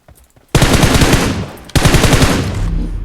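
Automatic gunfire from PUBG Mobile rattles in two long, loud, rapid bursts, the second following a brief pause, with no voices.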